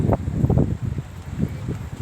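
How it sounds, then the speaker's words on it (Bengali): Wind blowing over a river where hilsa fishing boats gather buffets the microphone in low, uneven gusts and rustles, close and fairly loud, with no speech. "এই নদীতে বাতাস তো"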